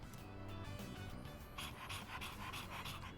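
A dog panting in the Persona 3 Reload video game, with quick rhythmic breaths running steadily over background game music for a few seconds, close and clear.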